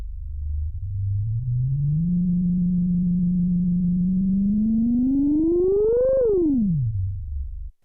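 A Minimoog synthesizer holds a steady, buzzy low bass note that creeps upward in pitch, then swoops back down into a deep rumble before cutting off abruptly, loud and alone.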